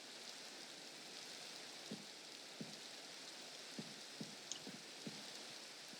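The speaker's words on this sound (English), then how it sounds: "And it's raining." Rain falling in Minecraft during the Sky Factory 3 modpack, a soft continuous patter with a few sharper drip-like taps scattered through it and no talking.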